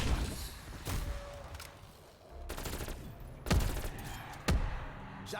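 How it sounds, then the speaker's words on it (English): Shotgun blasts in Call of Duty Cold War Zombies come as several heavy, booming shots spaced a second or more apart, with two especially loud close blasts near the end over steady game noise. "Shotgun claims more victims."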